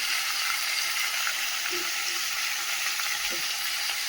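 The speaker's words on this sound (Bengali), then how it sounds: "ভালো করে ভেজে নেবো, একটু লাল করে কপি আলু সব ভেজে নিই" Cauliflower, potato and radish fry together in oil with salt and turmeric in a kadai, giving a steady, close sizzle with no voices, only a few faint stirring knocks.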